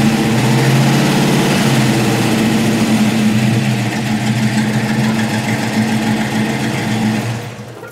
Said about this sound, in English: It obviously has some hot rod mufflers on it.